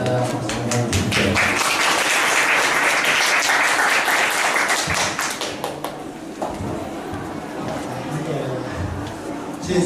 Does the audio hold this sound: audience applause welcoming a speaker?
yes